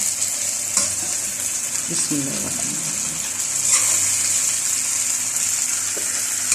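Loud, steady sizzling and frying hiss from Shinwari chicken karahi in a hot pan, with occasional stirring scrapes and a brief murmur of voice underneath.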